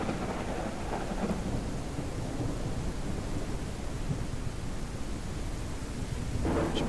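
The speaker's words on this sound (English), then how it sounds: "It always has to get that last little lightning strike in." Thunder rumbles through a Minecraft thunderstorm, a loud, continuous roar with rain hissing throughout and a brighter burst near the end.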